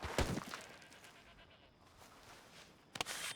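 Sheep in the video game Red Dead Redemption 2 bleat, one loud close bleat at the start followed by a quieter stretch and a second bleat cut short at the end.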